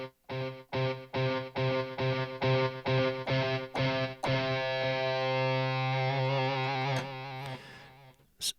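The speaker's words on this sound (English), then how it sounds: "You can hear 3 layers of this guitar" A sampled electric guitar on a Ketron Event keyboard with distortion, first struck in a run of short, evenly spaced chord stabs, then held as a long sustained chord that swells and fades, played alone without voices.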